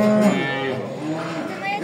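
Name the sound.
imported Simmental cow mooing at a livestock market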